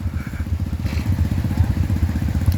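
Motorcycle engine running on a muddy trail, a steady low rumbling chug with rapid regular firing pulses, fairly close and continuous throughout, with faint clatter above it.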